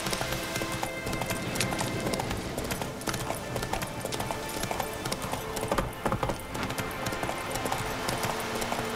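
Rhythmic clip-clop of a horse cantering in The Witcher 3 video game, steady hoofbeats throughout over a dense layer of game ambience and music.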